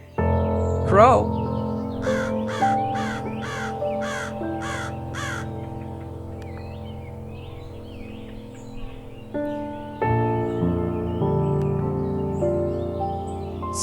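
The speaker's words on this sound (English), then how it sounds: "Crow." A crow caws in a short burst of repeated harsh calls early on, sounding fairly close, set over a sustained musical backing that continues throughout.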